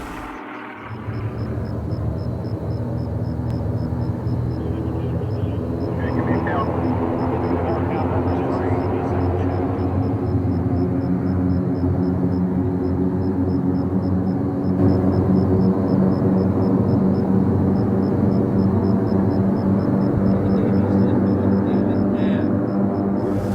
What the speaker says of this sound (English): Note the short distance takeoff run of the turbo wing and its higher rate of climb compared to the standard 337 Cessna.